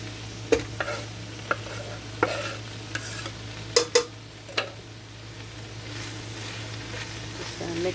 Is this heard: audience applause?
no